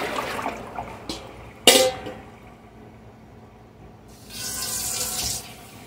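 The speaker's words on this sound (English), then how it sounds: "I'm going to dump my water and rinse my bowl out." Water is dumped and a bowl rinsed under a running faucet at a kitchen sink during tomato prep for home canning, with a sharp clunk early on and a steady rush of tap water near the end.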